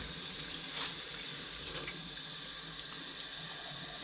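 Cold water runs steadily from a kitchen tap into a sink or container, a continuous close splashing hiss with no talk.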